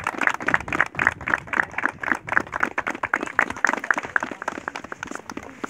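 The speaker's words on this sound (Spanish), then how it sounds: "un fuerte aplauso para ellos" A small group at a 2016 pilgrimage gathering in Campo Quijano, Salta, claps for two people being thanked. The clapping is sparse, uneven and fairly close, with distinct individual claps rather than a dense roar, and continues for several seconds.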